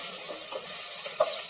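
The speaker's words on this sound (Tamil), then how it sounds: "வெங்காயம் வந்து கொஞ்ச நேரம் நல்லா வதக்கி விடுங்க" Small onions, green chillies and curry leaves sauté in a pan for sambar rice, giving a soft, steady sizzle with a few faint stirring scrapes and one brief clink near the end.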